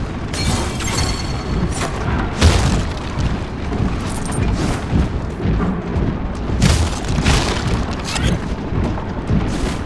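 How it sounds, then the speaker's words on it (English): A dense, continuous roar of booms and blasts fills the whole stretch of battle in Absolum, with loud impacts bursting out repeatedly over a rumbling background. "Javelin bullet!"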